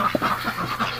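Ducks outdoors on a cold day give short nasal quacks and soft chatter at close range, a few scattered calls over a faint background.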